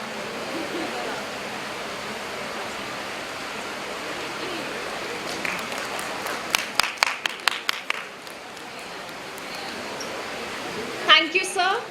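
Audience at an alumni meet applauds the President and Vice President of the MEMS Alumni Association, a steady wash of clapping across the hall with a handful of sharp, close individual claps standing out partway through.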